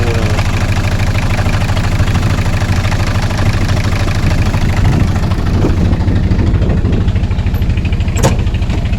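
A Mitsubishi single-cab pickup truck engine rumbles loudly up close, its low throbbing idle rising into revs with a clattering, knocking edge.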